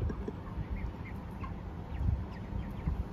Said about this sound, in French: Et les poulets.